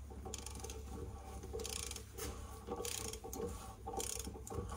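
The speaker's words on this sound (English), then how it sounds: "So, torque wrench is adjusted. And now we reverse the order." A torque wrench tightening bolts on a car's engine skid plate, quiet mechanical ratcheting in several short bursts over a steady low hum, no speech.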